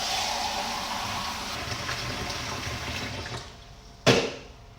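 Water runs steadily from a tap while something is washed out, a continuous splashing rush that eases off before a brief louder gush near the end; no one speaks.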